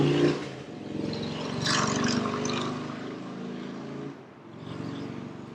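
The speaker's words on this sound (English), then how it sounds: "This loud-ass motorcycle." A motorcycle roars past, its engine swelling loudly then fading away, with a brief dip before the motor noise returns.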